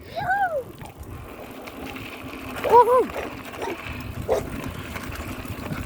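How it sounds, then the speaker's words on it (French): Several short, high-pitched yelping barks from dogs ring out at a few points during a mountain bike ride, over rolling bike and trail noise. "j'ai des chiens qui m'attaquent"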